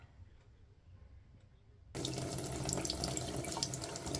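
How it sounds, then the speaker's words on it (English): Kitchen tap suddenly turned on to rinse a lion's mane mushroom, a quiet room giving way to a steady, close rush of running water. "I'm going to rinse this off, squeeze it out, and slice it up"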